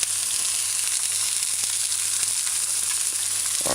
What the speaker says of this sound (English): Alright, so you just allow it to fry.